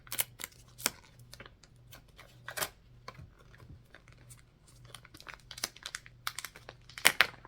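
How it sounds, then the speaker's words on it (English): Close crinkling and rustling of plastic packaging being pulled open to remove scissors, with irregular crackles and snaps over several seconds and no talking. "I'll take them out of the package."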